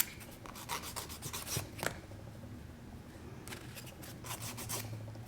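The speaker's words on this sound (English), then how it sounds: "And that's it as far as the filing I'm going to do." A nail file rasps across fingernails in quiet, close, uneven strokes: bursts of scratchy friction with brief pauses between them and no talking.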